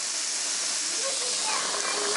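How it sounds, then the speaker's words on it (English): Steam hisses loudly and steadily from a pot of taco soup on the stove, a broad continuous rushing hiss heard close up with no pauses. "Steam."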